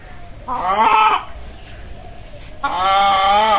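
Chickens squawking loudly and close by in two harsh, raspy bursts, with a quieter gap of background noise between them.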